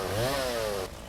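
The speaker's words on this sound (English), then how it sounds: "I gotta have my chainsaw out." Chainsaw in the logging game Lumberjack's Dynasty, a brief close revving buzz with a rising then falling pitch that cuts off abruptly, with no talk.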